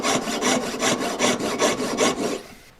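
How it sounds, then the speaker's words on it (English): A jeweller's saw cuts through metal on a straight line in about nine steady rasping strokes, each push and pull clearly separated, fairly close and alone until the strokes stop near the end. "as you're sawing a straight line"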